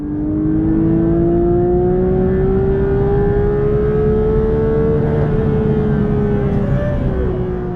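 Engine of a manual Porsche GT3 held high near its 9000 RPM limiter makes a loud, sustained high-pitched wail that climbs slightly and stays steady, close and dominant with no talking.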